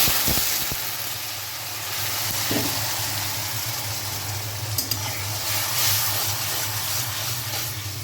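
Chopped onions and green chilies fry in a pan, making a continuous, even sizzle and hiss over a low background hum, with no voices.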